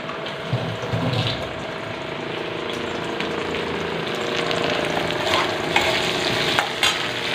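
Okra fries in a pan with steady sizzling and occasional stirring clatters, close and continuous, no talk.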